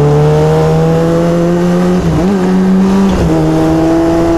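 A car engine held at steady high revs without shifting gear, on the way to an antiques centre in Gosfield; a loud continuous drone with stacked tones that dips briefly twice, then holds again, with no talking.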